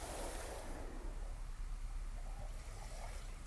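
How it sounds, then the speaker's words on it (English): Gentle ocean waves wash over a beach in a soft, steady surf hiss with faint swells, quiet and continuous with no voices. "waves gently touch your feet"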